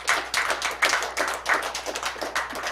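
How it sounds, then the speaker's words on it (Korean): A group claps together at a press conference held by elders marking the March 1st Movement anniversary, a close, dense burst of hand claps lasting a few seconds with uneven, pulsing swells. "공감의 의미로 우리 모두 박수 한번 칩시다."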